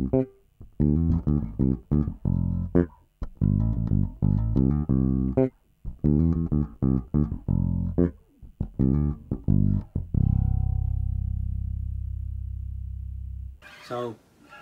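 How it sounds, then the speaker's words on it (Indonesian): A bass guitar with an Aguilar DCB pickup and OBP-3 preamp set flat plays a run of plucked notes, with a final note left to ring out and decay before a short scrape at the end. "Sekarang kita dengarkan flat menggunakan OBP 3 preamp."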